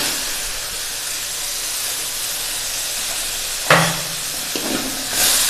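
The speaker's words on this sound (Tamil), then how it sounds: "இப்போ தக்காளியை போட்டதுக்கப்புறம் நல்லா தக்காளியை மைய வதக்கணும்." Tomatoes sauté in a pan for an okra curry, giving a continuous hissing sizzle, with a sharper clatter near the end and another burst of sizzle as they are stirred; no one speaks.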